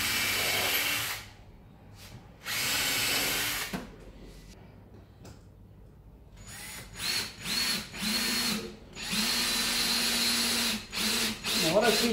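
A power drill drives screws through sauna bench boards in a series of short, close, revving bursts separated by quiet gaps and brief pauses.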